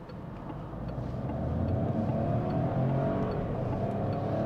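A 2023 Peugeot 308 in sport mode accelerating with the pedal flat to the floor, a steady droning engine note that builds slightly and holds, heard from inside the cabin.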